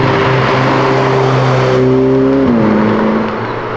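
A Ferrari 488 GTB engine roars loudly on a São Paulo street, holding a steady, sustained drone and then dropping pitch briefly near the end, close and continuous with no talk.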